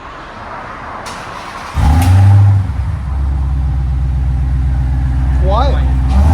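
Dodge SRT Hellcat engine with its exhaust valves closed, heard from inside the car: a quiet background hum, then a sudden loud rev that settles into a deep, steady idle, with a voice talking briefly.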